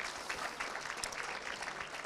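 Continuous, dense audience clapping fills a hall at a Manchester community awards event as groups make their way to the stage, steady and fairly loud with no voices standing out.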